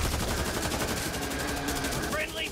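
Gunfire in the co-op zombie shooter Back 4 Blood, a dense continuous rattle of automatic shots under game noise, with a brief high electronic chirp near the end.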